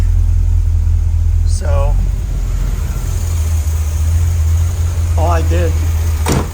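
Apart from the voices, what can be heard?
car engine with Quadrajet carburetor idling at about 800 RPM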